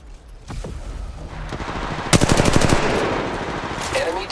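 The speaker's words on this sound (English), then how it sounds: "The enemies are shooting at me." Rapid automatic gunfire from enemies in the mobile battle royale Apex Legends Mobile, a sustained loud burst of closely spaced shots after a few scattered earlier hits.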